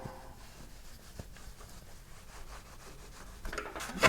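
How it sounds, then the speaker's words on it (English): Motorcycle brake caliper surfaces being wiped and scrubbed clean for an MV Agusta F3 build, a steady close rubbing and scraping texture that grows louder and harsher toward the end. "Cleaning all of the surfaces."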